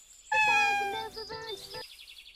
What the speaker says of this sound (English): exploring and sharing adventures with their clever white cat, Bela.